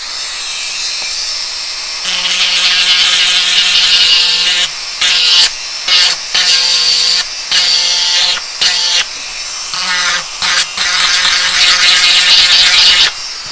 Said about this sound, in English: And I'm going to show you with the Dremel as well, in case you're using one.